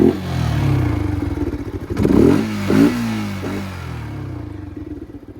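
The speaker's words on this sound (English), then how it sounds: "just listen to the exhaust note" A Yamaha R15 motorcycle's deep, throaty exhaust burbles at idle, then snaps through several sharp blips of the throttle before settling back to a steady rumble, close up.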